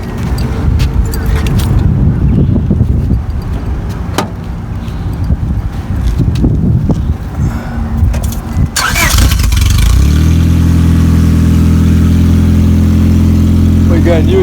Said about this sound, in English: All right, give it a start up, see how it sounds.